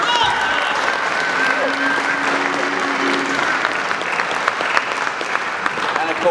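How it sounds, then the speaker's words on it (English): A room full of people at a boxing press conference in Nottingham applauding, dense sustained clapping with a few cheers, while a voice speaks over it and a faint tone sounds in the background. "a round of applause for the teams"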